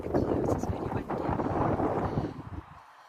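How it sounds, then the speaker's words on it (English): Very strong night wind in Scotland blasts across the microphone in a dense, rumbling roar with uneven gusts, cutting off abruptly near the end. "It's very windy."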